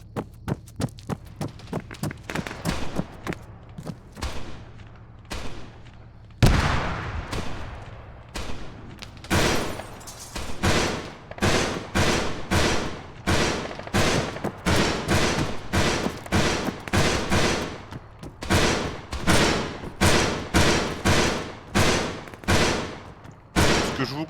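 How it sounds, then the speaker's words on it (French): Rapid bursts of automatic gunfire from a wheeled armored vehicle in the military shooter game ArmA 3, dense repeated volleys punctuated by a heavy thump, loud and sustained with no talking. "Le véhicule à roue tire direct."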